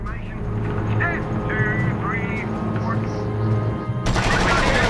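Gunfire in a R.U.S.E. video game battle, dense machine gun and rifle shots rattling continuously beneath game voice lines and radio chatter, growing louder near the end.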